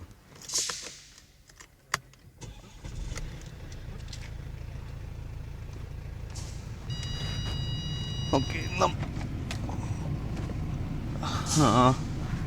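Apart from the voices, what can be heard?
Mercedes-Benz C-Class car engine starting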